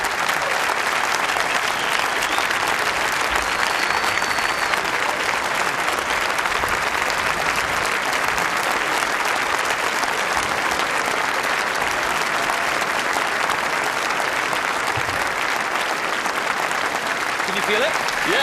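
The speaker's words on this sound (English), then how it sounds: "Actually, this is the first time I felt applause on the vest." Sustained applause from a large TED talk audience, a loud, steady wash of clapping that holds evenly for the whole stretch, with some voices mixed in.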